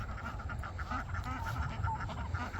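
Ducks quacking at a farm pond alongside jumbo white turkeys, a dense, steady chorus of overlapping calls close by with no talking.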